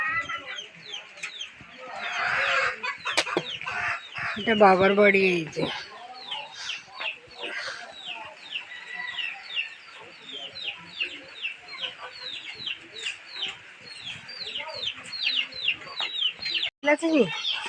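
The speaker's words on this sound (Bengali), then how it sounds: "একটা আমার মায়ের মুরগি একটা মোরগ" A hen and a rooster cluck close by at a rural family home on a rainy morning, with short, repeated bursts and chattering calls while someone talks over them now and then.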